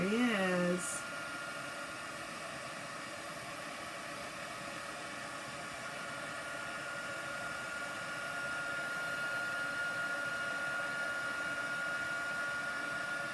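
Heat embossing tool blowing hot air onto a clear embossed scrapbook embellishment, a steady airy whir with a faint hum that runs unbroken after a brief opening sound.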